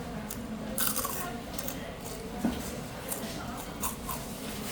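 Biting into crunchy fried cream cheese wontons at a restaurant in Ningbo, China, with a few sharp crisp crunches over a busy room's background murmur.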